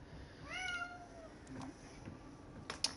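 A house cat gives a drawn-out meow close by, followed by a few faint clicks and soft movement in a quiet indoor room.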